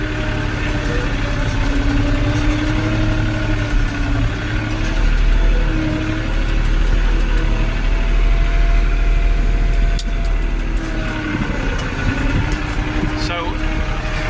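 Steady mid-pitched tractor engine drone while driving along rows of wet hay, loud and close throughout, with someone talking over it.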